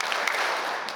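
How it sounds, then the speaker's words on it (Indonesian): A mosque audience at a Maulid Nabi gathering claps on a preacher's cue, producing a dense, continuous burst of many hands that is close, fairly loud and short, with no talking over it. "Tepuk 3 kali."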